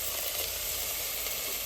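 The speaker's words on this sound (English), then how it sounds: "I like to sear one side, flip, then drop the temp down a little bit, cover, and help get the heat in." Thick pieces of meat sear in a hot pan, giving a dense, even sizzle and crackle that holds steady and fairly close for under two seconds, with no talking.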